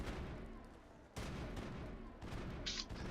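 Faint bursts of rifle fire crackle in a Mass Effect firefight, sharp volleys coming in uneven clusters, with a sudden louder onset partway through.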